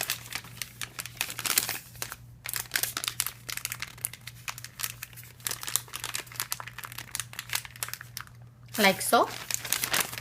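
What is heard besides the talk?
plastic piping bag crinkling as nozzle is inserted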